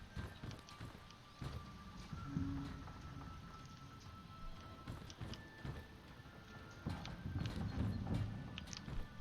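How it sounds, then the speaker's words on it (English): Horses clip-clop steadily through a video game landscape, a soft rhythmic trot layered over ambient background sound at moderate distance. "Little rustic horses."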